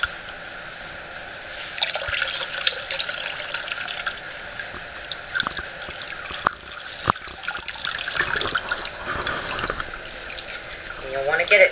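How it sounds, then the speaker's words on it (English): Buttermilk is squeezed out of homemade butter wrapped in cheesecloth, trickling and dribbling in an uneven, faint stream with scattered drips and soft wet squelches over several seconds. "you just start squeezing the buttermilk out of your butter"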